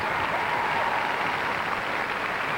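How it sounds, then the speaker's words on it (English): A crowd at the 1991 World Figure Skating Championships in Munich applauds ice dancers with a steady, wash-like ovation that holds at an even level without pause. "this crowd is giving them a great ovation again"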